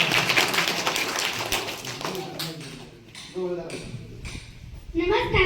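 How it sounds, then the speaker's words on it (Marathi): Applause for a student, Madhavi, at a farewell ceremony for two teachers at a Zilla Parishad primary school: a burst of clapping, with an announcer's voice over the start. "माधवीसाठी जोरदार टाळ्या"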